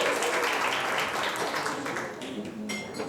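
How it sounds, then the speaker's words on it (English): Guests at the 70th Hyundai Filmfare Awards press conference are greeted by a steady wash of audience applause that carries on for a few seconds, then thins out and fades near the end. "please give a round of applause once again to our esteemed guests for joining us today"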